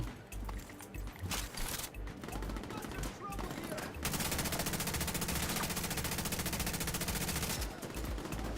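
A heavy gunner boss in The Division 2 unleashes sustained machine gun fire, a dense continuous stream of rapid shots that dominates the latter half after scattered earlier gunfire, loud and close.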